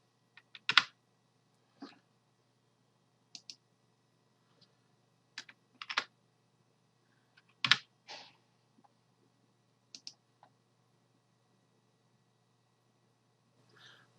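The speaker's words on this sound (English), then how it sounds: "it says I can press the caret key" Computer keyboard keys pressed in short, sparse clusters of crisp clicks, close and fairly quiet, with pauses between bursts and a faint steady hum underneath.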